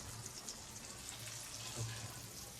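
Fish, including bombil and bangda, frying in a home kitchen pan, a steady faint sizzle and hiss throughout with no talking.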